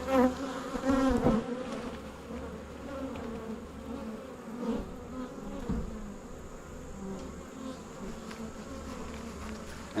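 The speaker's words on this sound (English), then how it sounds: "I'm gonna shake the bees off of it and put it in the truck." Honey bees swarm around a hive frame of capped honey, a dense, continuous buzzing close to the microphone with no one speaking.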